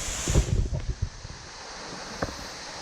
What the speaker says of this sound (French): vu le bruit, je pense que vous avez compris que on est arrivé à la cascade de Saint-Même